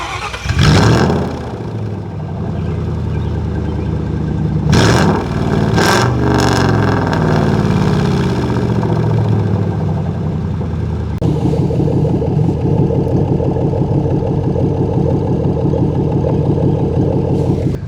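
A Lincoln car fitted with MagnaFlow straight-through exhausts runs close by, its engine idling with a steady low rumble, then revving loudly in sharp bursts before settling back into a throaty idle, with no talking.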